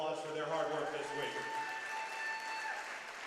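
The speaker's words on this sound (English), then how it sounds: "How about a round of applause for their hard work this week?" A crowd in a gym applauds at a girls high school basketball tournament between Macomb and Alleman, with clapping running under loud sustained voices and tones that fade slightly over the few seconds.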